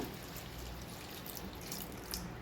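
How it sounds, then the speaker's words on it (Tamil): Water poured from a small tumbler into a pan of ivy gourd and prawns, a soft continuous splashing and trickling heard close up for a couple of seconds. "அரை டம்ளர் அளவுக்கு தண்ணி சேர்த்துக்க"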